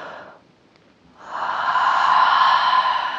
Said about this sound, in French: on s'étire, on baille